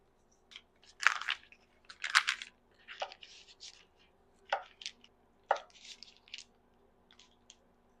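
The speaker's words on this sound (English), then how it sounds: "I'm going to go ahead and cube up my butter" A knife slices through a block of butter on a cutting board in a home kitchen, about eight separate soft crunching cuts with quiet pauses between, close and faint against a low background hum.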